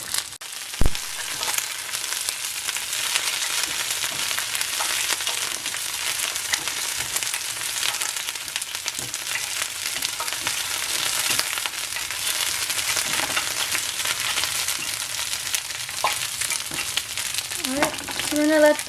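Dried chilies and tomatoes fry on a stovetop with a loud, dense, unbroken sizzle and crackle for the whole stretch, plus a few sharp clinks and scrapes of stirring near the start and end.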